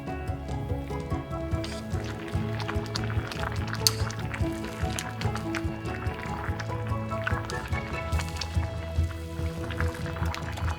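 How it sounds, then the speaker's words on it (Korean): Fresh noodles are rinsed in water, a continuous sloshing and dripping of running water under steady background music. "생면은 물에 살짝 헹궜다"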